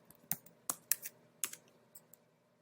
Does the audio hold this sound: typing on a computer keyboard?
yes